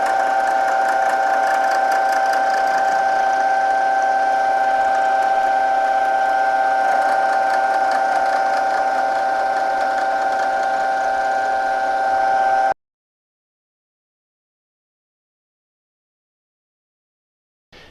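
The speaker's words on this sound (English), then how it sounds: "So that's pretty much the basics of machine checkering." A checkering machine cuts a gunstock with a steady, loud, high mechanical whine and buzz that holds unbroken for about twelve seconds, then stops abruptly into silence.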